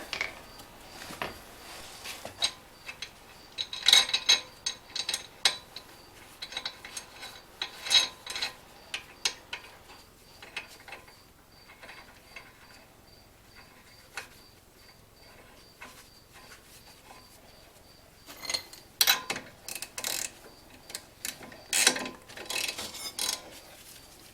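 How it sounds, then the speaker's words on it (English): Lug nut and spacer being tightened with a hand ratchet on a Mazda 3 front brake assembly, scattered bursts of quick metallic clicking close by, separated by quieter stretches. "I'm just going to use the lug nut and a spacer to just draw that in"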